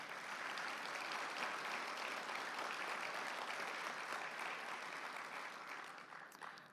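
A steady, even round of audience applause greets the founders about to pitch at a startup showcase finale. The clapping is dense but fairly soft and distant, holding for several seconds before thinning at the end.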